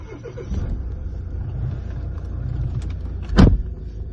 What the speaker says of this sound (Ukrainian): Робота двигуна рівна, так як я казав.